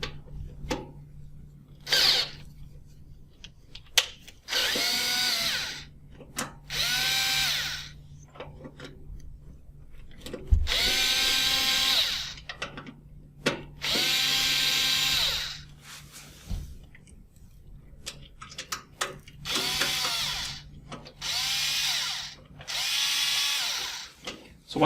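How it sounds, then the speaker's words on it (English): A powered screwdriver backs the screws out of a relay terminal block on a chassis, with several close whirring bursts of a few seconds each, separated by quieter pauses and faint handling clicks. "I'm going to use a screwdriver and remove the screws that hold the terminal block to the chassis"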